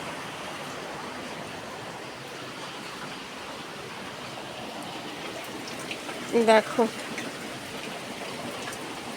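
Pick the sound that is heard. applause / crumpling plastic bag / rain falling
rain falling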